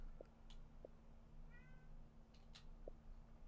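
A cat meows several times, short and somewhat distant, with brief calls scattered across a few seconds over a steady low hum from game audio.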